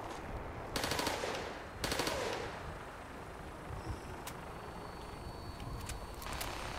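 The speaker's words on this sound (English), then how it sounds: "that was a freaking machine gun it was about to shoot me with" Fallout 4 vertibird machine gun fires in two short, rapid bursts, fairly distant and muffled, then fades into faint scattered shots and ambient battlefield noise with no speech.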